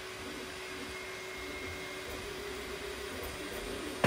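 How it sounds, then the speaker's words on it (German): An Anycubic Kobra 3 3D printer runs loudly with a steady whirring fan and motor drone and a faint tone, close and continuous, with no talk. "Unschön ist meiner Meinung nach, der Drucker ist laut."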